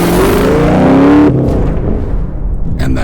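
A Dodge Viper supercar's engine revs loudly with a rising, strained tone for about a second, then drops away into a rougher, lower rumble that tails off.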